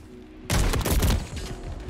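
Gunfire in a first-person shooter video game with a fast-firing sniper rifle: a sudden burst of loud shots begins partway through and continues in rapid, overlapping reports.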